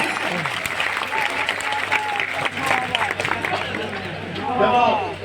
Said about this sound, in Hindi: बजाओ ताली एक बार नहीं।